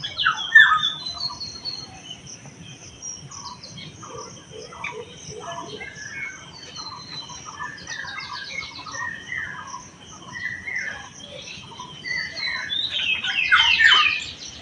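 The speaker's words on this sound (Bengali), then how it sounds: "শুধু চারিদিকে শুধু পাখিরা ডেকে যাচ্ছে" Assorted birds calling at dawn around a village pond ringed by mango and jamun trees, scattered chirps and whistles at a moderate distance, with a faint voice at times.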